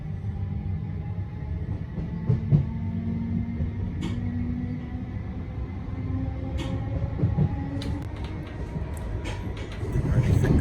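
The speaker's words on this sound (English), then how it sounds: "here I am on the train" A steady low rumble and hum fill the interior of a moving train, with faint squeaks and clicks now and then and a slight swell near the end.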